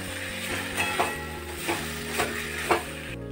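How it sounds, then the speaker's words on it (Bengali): Spatula stirring vegetable chop filling with crushed peanuts in a pan gives soft scraping strokes and a few sharper clinks against the metal over a faint sizzle, fairly quiet and uneven in rhythm. "এবার এটাকে আমি ভালো করে নেড়ে নেব।"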